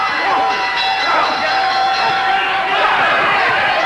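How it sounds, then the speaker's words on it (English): At a 1991 GWF pro wrestling TV event in Texas, the ring bell rings with a sustained metallic tone over a noisy crowd while a commentator talks. "now that the bell is rung"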